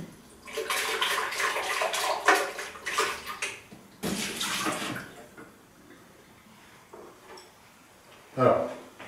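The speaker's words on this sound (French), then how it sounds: "je vais rincer juste le bol du blender" Water splashing as a new blender bowl (Optimum 9200A) is rinsed in a kitchen: bursts of running, sloshing water near the start and middle, fading to quiet handling, with a brief clatter near the end.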